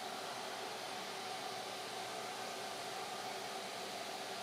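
A vacuum runs alongside a CNC machine cutting puzzle pieces, giving a steady, faint, even airy whoosh that holds unchanged throughout with no talk.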